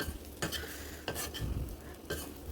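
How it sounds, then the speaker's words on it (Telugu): Ivy gourd (tindora) stir-fried in a pan with spice powder until dry and roasted, with a spatula stirring and scraping in a few distinct strokes over a soft, steady sizzle, close and fairly quiet, without talk. "బాగా కలిసి వేపు వచ్చే వరకు వేగించుకుంటే బాగుంటుంది. ఇలా పొడి పొడి ఆడే వరకు కలుపుతూనే ఉండాలి."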